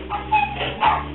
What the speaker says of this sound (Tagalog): Yung aso maingay.